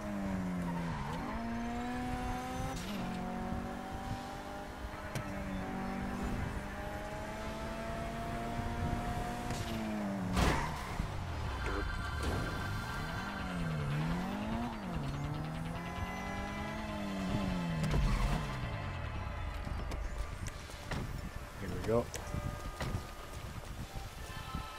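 Game car in GTA on PS3 fleeing with skidding, squealing tires, sweeping engine pitch rising and falling over a steady loud drone, with sharp screeches and bumps throughout and no talk.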